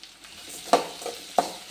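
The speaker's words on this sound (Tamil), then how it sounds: "சின்ன வெங்காயத்தை போட்டுக்கலாம்." Chopped small onions (shallots) fry in a pan, a steady soft sizzle broken by a few sharp stirring scrapes, close and fairly loud.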